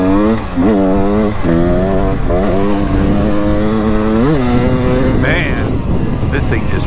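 A 2023 Beta 300 Race Edition dirt bike engine revs loudly and close, its pitch climbing and falling through repeated throttle blips before a higher whine near the end.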